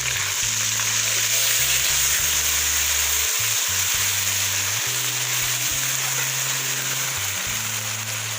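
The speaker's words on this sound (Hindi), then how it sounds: "अब मैं लहसुन अदरक का पेस्ट डाल रही हूँ, और ये सब्ज़ मिर्ची का पेस्ट" Garlic, ginger and green chili paste sizzles loudly in hot oil for chicken karahi, a dense, steady frying hiss with low bubbling and stirring throughout, no voices.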